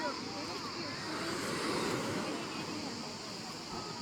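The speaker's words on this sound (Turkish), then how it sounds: "İyice dalgalar arttı." Evening sea waves wash steadily onto a beach at Ekincik cove in Köyceğiz, Muğla, a continuous broad surf rush with wind noise on the microphone, fairly loud and even throughout.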